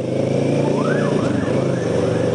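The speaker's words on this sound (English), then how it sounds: "There's one car alarm." A car alarm whoops on a city street in Taiwan, its rising and falling tone repeating several times over loud, steady traffic and engine rumble.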